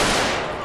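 Gunfire from an FN F2000 in a GTA multiplayer Battlefield mod, a short dense burst of loud, close shots running together without pause.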